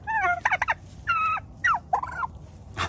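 A turkey hen gobbles in several quick, warbling bursts at close range, the rapid rattling calls broken by brief pauses against a quiet background.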